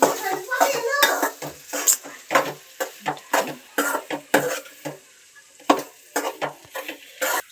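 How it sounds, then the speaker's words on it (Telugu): Food being mixed in a pan with chilli powder, salt and spices, heard as a series of scraping, clattering stirs against the cookware in irregular bursts, with faint sizzling in the gaps. "సో బాగా కలపండి, మిక్స్ చేయండి"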